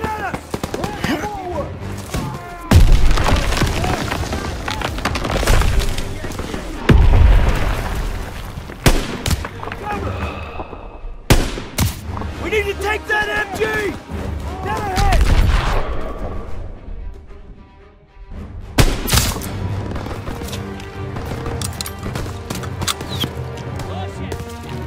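Bursts of rifle shots and rattling machine-gun fire in a World War II first-person shooter game, loud and close, with sharp cracks, sustained volleys and brief lulls between the salvos.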